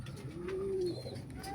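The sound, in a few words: pigeons cooing in a loft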